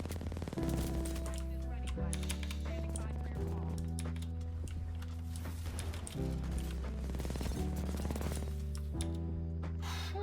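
Rapid gunfire from the first-person shooter video game Titanfall 2, with dense overlapping bursts of shots over a steady musical score that continues through the whole stretch.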